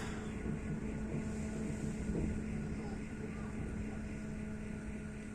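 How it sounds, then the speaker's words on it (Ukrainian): Drone engines buzz overhead at night over Kyiv, a steady, continuous droning hum with a persistent low tone that holds at an even loudness throughout. "Очень много шахедов летит."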